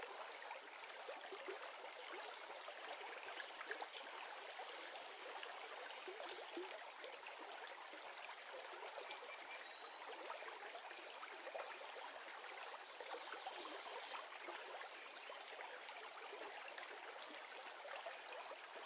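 Stream water flowing and winding between stones, a soft, steady trickling and babbling that continues evenly throughout with no voices.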